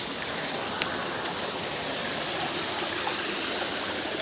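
A waterfall and flowing stream roar in a steady, dense wash of water noise, continuous and fairly loud without breaks, with no voices over it.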